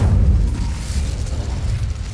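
A fire spell blast cast in Hogwarts Legacy, a deep, booming whoosh that rolls on as a steady low rumble for the whole stretch, loud and close with no talk over it.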